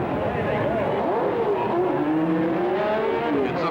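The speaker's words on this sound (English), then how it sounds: "the rest of the field racing away" Race cars at the start of the 1966 Sebring 12 Hours, the field roaring away together in a loud, continuous blend of engine drone with rising and falling pitches, under a commentator's voice.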